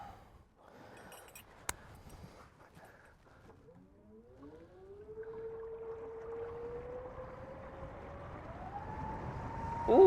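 A Mercury Avator 35e electric outboard on a 4.5 m boat accelerates toward planing, its motor whine rising steadily in pitch and volume after quiet opening rustles, with no speech.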